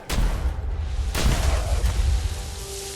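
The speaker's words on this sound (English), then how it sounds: "Is it because I'm shooting the water?" Booming gunshots splash into water in Fallout 4, followed by a rushing, sustained wash of noise with heavy low rumble; loud and close.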